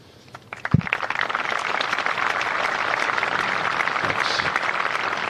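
A home crowd at the ActewAGL Canberra Classic golf event breaks into sustained applause for Australian golfer Minjee Lee, building quickly after a sharp opening clap and holding steady as a broad, dense patter.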